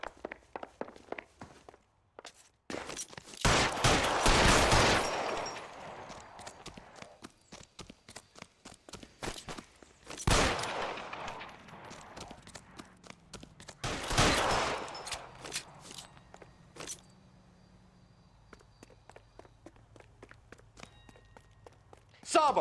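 Gunfire in the L.A. Noire video game comes in several loud, sharp bursts of rapid shots separated by quieter stretches, with footsteps ticking between them.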